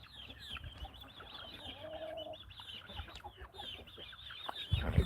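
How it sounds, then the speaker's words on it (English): A farmyard rooster clucks repeatedly at moderate distance, short throaty calls scattered over steady outdoor background noise with a brief louder bump near the end. "All right, come on, you stupid rooster."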